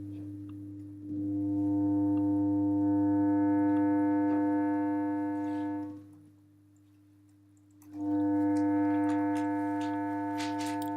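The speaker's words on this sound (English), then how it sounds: "what this would sound like to distort a sine wave" A distorted sine wave, a buzzy, harmonic-rich tone, holds steady for about five seconds, drops away, then returns just as loud, harsh and continuous with no voice.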